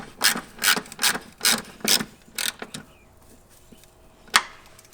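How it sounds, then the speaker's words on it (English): A ratchet tightens a nut on a compressor mount bracket for a Jeep Wrangler JL, giving about seven quick, loud clicking bursts in a steady rhythm, then one last sharp click after a pause. "Now we can go ahead and tighten up this nut again."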